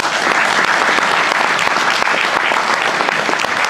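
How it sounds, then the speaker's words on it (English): A crowd at the 2014 Tandragee 100 road race press launch gives a round of applause: dense, even clapping, loud and continuous, with no voices over it. "So give her a round of applause."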